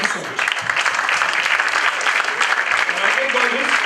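Audience applause at a literature festival session on comics, dense sustained clapping from a crowd filling the whole stretch at steady loudness, with no voice over it.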